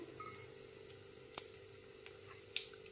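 A soft, steady sizzle of cumin and white sesame seeds in hot oil, broken by three sharp little pops.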